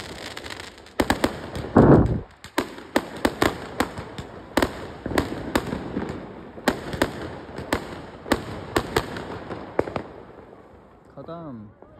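Firecrackers, including aloo bomb crackers, go off outdoors in a rapid string of sharp bangs and pops of varying loudness for about ten seconds, followed by a brief faint tail.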